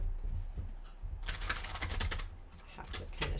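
Rapid papery riffling and flicking of large tarot cards being shuffled close by, in quick bursts of crisp clicks with no talking.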